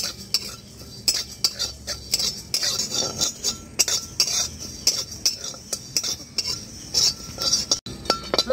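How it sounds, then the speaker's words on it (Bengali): Cumin, fennel, coriander and dried chillies dry-roasting in a pan, with a spoon scraping and clinking against the metal in quick, busy stirring over a faint sizzle. "একসাথে ভেজে নেব।"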